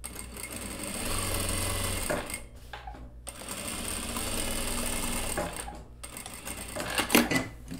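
A sewing machine topstitches the body of a blazer in two long, steady runs with short pauses between them. Close and fairly loud, with a few clicks and handling noises near the end.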